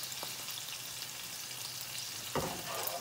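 Mrigal fish fries in a pan with a continuous close sizzle and light crackling, broken near the end by a brief scrape or clatter as pieces are handled; no talking.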